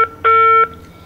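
A single steady electronic telephone-line tone, a pure pitched beep lasting under half a second against quiet background, sounding when a call fails to connect.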